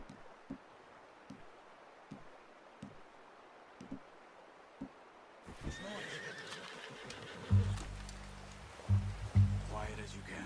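Horse in the video game Red Dead Redemption 2 whinnying loudly in the second half, with clip-clop of hooves and rustling, after a quiet stretch of faint outdoor ambience and soft footsteps.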